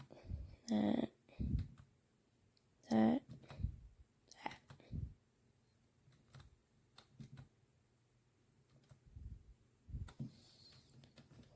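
Keys clicking on a Snpurdiri 60% wired RGB gaming keyboard, a few scattered sharp taps and clicks at close range, fairly quiet, with soft background noise between strokes.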